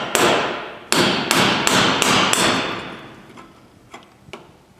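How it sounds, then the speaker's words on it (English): A series of sharp metallic hammer strikes on an electrical meter socket to form an indentation, a handful of loud blows at first, then fainter taps trailing off. "So I want to try to get this indentation in here by hammering it"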